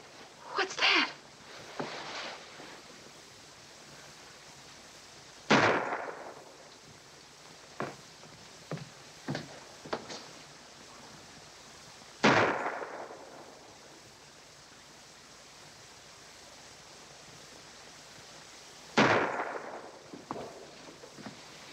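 Gunshots from target practice near a castle: three sharp, separate cracks come several seconds apart, each ringing out briefly, with faint softer knocks in between.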